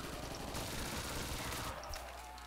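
Loud, close bursts of MSMC submachine gun fire in Black Ops 2 Zombies, a dense continuous rattle that briefly thins near the end before resuming.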